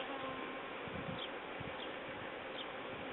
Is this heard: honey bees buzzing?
yes